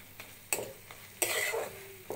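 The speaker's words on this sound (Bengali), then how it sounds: "এবার সরষে বাটাটা দিয়ে ভালোভাবে নাড়িয়ে" Fried helencha greens are stirred in a pan with ground mustard paste, giving two distinct scraping bursts with sizzle, close and moderately loud, separated by quieter frying hiss and a few light clicks.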